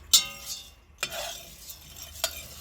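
Coffee beans being stirred while roasting on a BBQ: a few distinct scraping clatters spaced about a second apart over a faint, steady background hiss.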